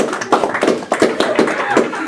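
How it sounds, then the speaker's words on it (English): A small audience claps for a school Year 12 student pitch group, a close, fairly loud patter of hands in quick uneven rhythm. "Right, give them a clap."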